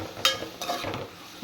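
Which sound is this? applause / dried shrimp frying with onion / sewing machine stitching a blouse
dried shrimp frying with onion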